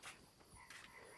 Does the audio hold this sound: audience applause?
no